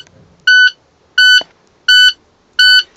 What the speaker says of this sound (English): Okay, so we had low air pressure at no less than 60 PSI. We see the light and we hear the buzzer.